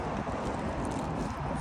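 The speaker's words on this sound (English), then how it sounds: "Windy, I love it." Wind blowing across an apartment balcony gives a steady, broadband rush that buffets the microphone continuously, with no voices.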